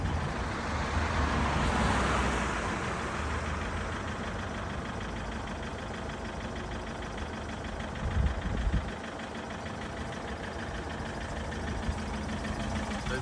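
A Citroen C5 engine idles steadily after starting, a constant low rumble with a few small irregular bumps, heard from close by with no voices.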